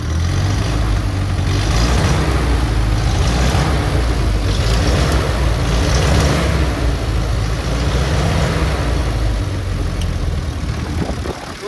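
A Farmall Cub tractor engine, first run after twenty years idle, runs loud and close with a steady throbbing low rumble that rises and falls as it accelerates, with no one talking.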